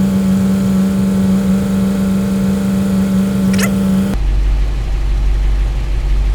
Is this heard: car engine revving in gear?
yes